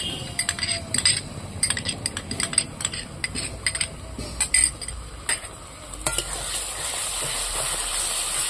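A spoon stirs yogurt into a spicy, oily tengra fish curry in a pan, clinking repeatedly against the metal over a steady background sizzle that grows more constant toward the end.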